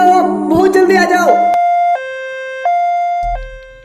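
Two-tone ambulance siren in a Free Fire video game skit, loud and steady with alternating high and low wails, starting right after a burst of excited voices.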